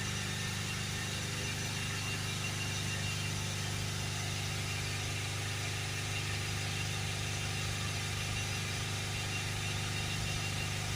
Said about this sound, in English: Gonna rev the vehicle up to 3000 RPM, and we'll hold it.